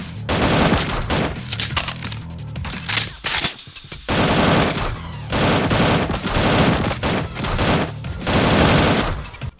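Rapid automatic gunfire from a gun in Roblox The Undead Coming, loud close bursts of fast shots separated by short pauses, with no talking.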